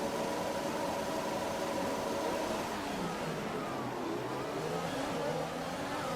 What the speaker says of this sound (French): Départ du Grand Prix d'Azerbaïdjan à Bakou